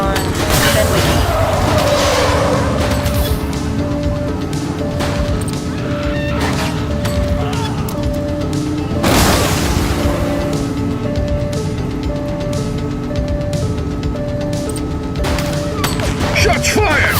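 Gunfire and crashes ring out during a police chase in The Precinct video game, loud bursts over continuous engine and siren tones, with radio chatter in the mix.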